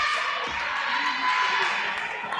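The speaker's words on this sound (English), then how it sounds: "Crowd's starting to buzz." Crowd noise at a women's basketball game in Canberra, a steady broadband murmur of spectators filling the arena, with a commentator talking over it.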